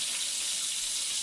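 A kitchen tap runs at full flow while hands are washed under it, a loud, steady close-up rush of water with no break and no voices.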